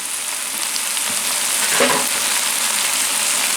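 Wet fresh turnip greens sizzle and crackle steadily in a hot cast iron pan, a loud continuous frying hiss with a brief swell of popping midway and no one talking.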